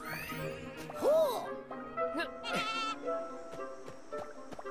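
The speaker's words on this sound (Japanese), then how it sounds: "哇，竟然是抱羊驼，好可爱。" Creature cries from an alpaca in the video game Ni no Kuni: Cross Worlds, a few bleating, sheep-like calls with wavering pitch over game music and effects, moderately loud and alone.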